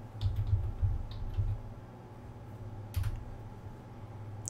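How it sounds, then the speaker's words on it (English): Keys tap on a computer keyboard in a quiet room over a low, steady hum, a handful of faint, quick clicks in short clusters with a pause between them. "We're going to type in reg edit."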